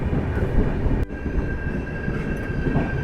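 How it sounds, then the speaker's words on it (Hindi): Steady rumbling roll of the Kerala Sampark Kranti train running through Kerala in the morning, a dense continuous low drone with a faint high whine and a brief dip near the middle, no talking. "ये ट्रेन की rhythmic chugging"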